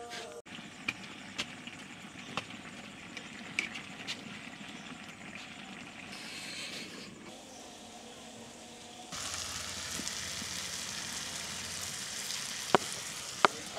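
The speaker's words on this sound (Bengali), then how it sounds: "এই যে আওয়াজটা শুনলেন এরকম এই যে চটচট চটচট যে আওয়াজটা হচ্ছে, তার মানে পানি প্রায় শুকায় গেছে" Fish chorchori crackles and sizzles in a wok (kadai) in a village kitchen as its water almost boils away. A steady close hiss carries scattered sharp pops, and it turns louder and brighter about two-thirds through. No voices are heard.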